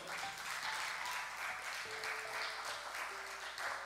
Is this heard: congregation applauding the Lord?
yes